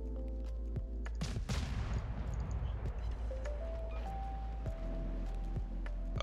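Naval guns firing from a warship in World of Warships, a few sharp booming salvos close together early on, then scattered distant shots over a constant low engine rumble, with tonal game cues rising in the background.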